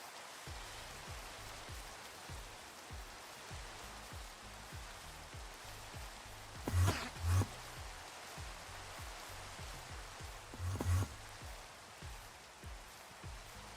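Steady rain falling in Minecraft, a soft even patter continuing throughout with a few louder thumps scattered in, fairly quiet and with no talking.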